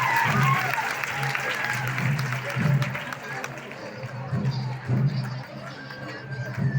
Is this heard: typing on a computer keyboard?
no